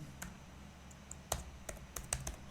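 Someone typing Java code on a computer keyboard, quiet, irregular key clicks in short clusters, close by, with no speech over them.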